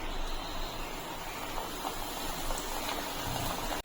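Gaja pastry dough deep-frying in hot oil, a steady dense crackling and bubbling sizzle that runs evenly throughout without pause, close and fairly loud.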